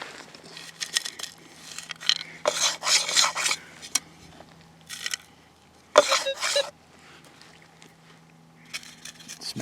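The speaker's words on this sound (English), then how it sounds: "Smash up those pieces of dirt." Clumps of dirt are broken up in a metal-detecting scoop during a search with a Gold Monster 1000 detector, heard as close, rough rasping and rubbing bursts in several separate bouts with quiet gaps between.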